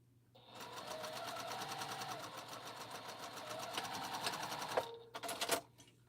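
Domestic sewing machine stitching a quilt, a fast steady run of needle clatter for about four and a half seconds, then a brief stop and a couple of short bursts, close and clear.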